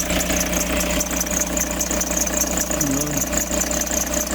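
An idling Toyota HiAce Grandia van engine rumbles steadily up close, with a persistent high-pitched squeal from a wet, slipping belt running over it.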